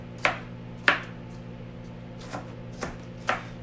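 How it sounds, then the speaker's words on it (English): A knife chops onion on a board during holiday cooking of a riced cauliflower stuffing, giving five sharp separate chops: two strong ones near the start, then three softer ones spaced apart, with no talk. "So I'm chopping some onion, just chopping it up."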